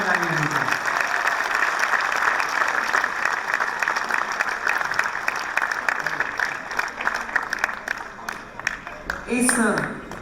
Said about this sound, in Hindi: आप जोरदार तालियों के साथ पद्मिनी का स्वागत करिए जो हिंदुस्तान से आपके लिए आई है।